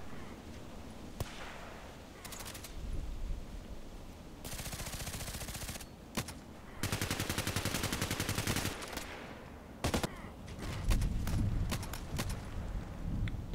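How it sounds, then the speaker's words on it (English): Gunfire in the online shooter Contract Wars, heard as scattered single shots and several rapid automatic bursts of varying length, some sharp and near, others duller and more distant, separated by quieter gaps. "Somebody shooting there"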